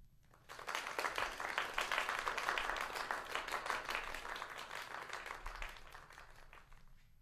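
Applause for a performer at an online adult script showcase: a fairly quiet, steady spatter of many hands clapping that swells, holds, then tapers away, with no voices over it.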